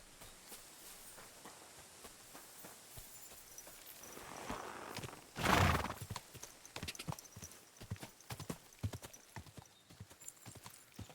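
Steady clip-clop of horse hooves walking close by in the video game Kingdom Come: Deliverance II, with a loud snort or whinny bursting out midway before the hoofbeats continue.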